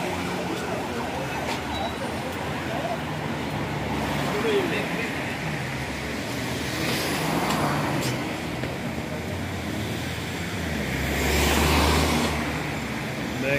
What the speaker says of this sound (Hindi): ट्रैफिक का बहुत प्रॉब्लम है